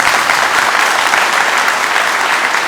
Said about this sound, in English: I think we need to celebrate this with a round of applause